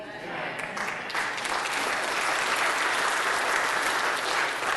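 A church congregation applauds during a sermon, with dense, sustained clapping from many hands that swells slightly and holds steady, filling the room without any talk over it.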